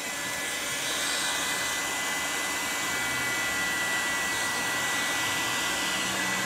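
A heat gun blows hot air in a workshop with a steady, loud, unbroken rushing hiss that holds evenly from start to finish with no one talking.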